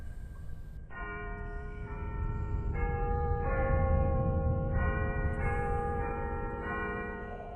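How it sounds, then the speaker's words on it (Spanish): Clock bells toll midnight with slow, deep strikes ringing out one after another, each blooming and fading into the next in a resonant, mournful tolling heard alone. "oyó entre sueños las vibraciones de las campanas, lentas, sordas, tristísimas"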